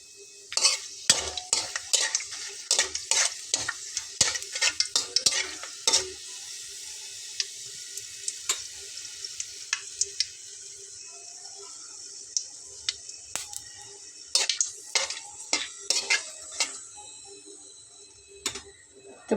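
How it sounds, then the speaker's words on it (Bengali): Two dry red chillies and a bay leaf crackle in hot oil in a pan, sputtering as sharp pops and ticks in dense bursts that thin out and return, close up with steady sizzling underneath. "তো এখন আমি এখানে 2টা শুকনো মরিচের ফোড়ন দিয়ে নেব আর তেজপাতাটা দিয়ে নেব।"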